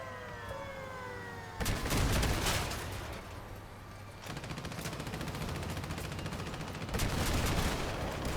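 Carbine fire in the vehicle combat game Crossout: dense bursts of rapid gunshots come in several sustained volleys over a background of game noise, heard at moderate loudness.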